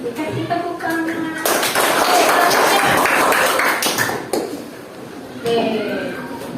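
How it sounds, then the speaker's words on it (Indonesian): A classroom group breaks into brief applause, with a burst of clapping mixed with tapping and clinking in the middle and people talking before and after. "Dikasih tepuk tangan."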